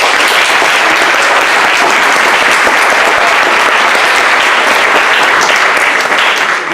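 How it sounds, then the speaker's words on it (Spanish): Loud, dense, sustained applause from a large audience at a panel discussion, filling the whole stretch without break. "Necesitamos un fuerte aplauso"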